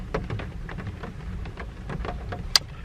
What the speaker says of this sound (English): the heavens have opened again